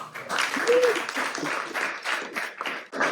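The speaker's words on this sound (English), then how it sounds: "So I'll start also with a round of applause for you guys." Applause from an audience for a team at a summer event in Lisbon, dense and steady for about three seconds with a brief dip near the end, voices mixed in beneath the clapping.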